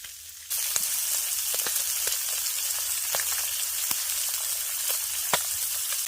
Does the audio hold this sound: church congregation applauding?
no